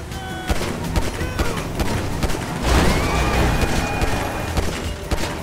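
Gunfire in GTA 5 during a car chase, a rapid fusillade of loud shots crackling and booming over engine noise, with brief talk mixed in.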